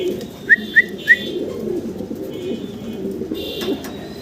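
Modena pigeons, a pair in a loft, give a few short cooing calls, three quick notes early and softer ones later, close by over a low background murmur.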